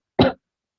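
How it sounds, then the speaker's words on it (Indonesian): A single short, sharp cough from someone speaking indoors, close and clear, over silence. "aduh maaf agak batuk"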